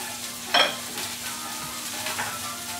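Pre-cooked garbanzo beans tumble into a hot pan for a pork and radish mojo, giving a brief splashy burst followed by a low, steady sizzle that carries on quietly with no talking.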